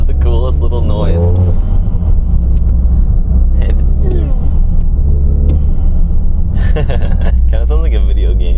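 A Toyota GR Corolla engine with a K&N aftermarket intake rumbles loudly and steadily with brief revs, heard close up while people talk over it.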